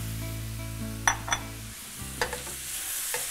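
Finely minced carrot, celery and onion sofrito for a ground beef ragu sautéing in a pan, a steady low sizzle with a few sharp utensil clinks and scrapes as it is stirred.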